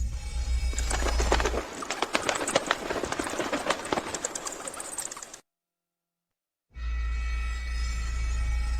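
A bird coos in a period drama scene, its soft cooing tangled with a rhythmic clatter and background noise, then cut off by a brief silent gap before the sound resumes.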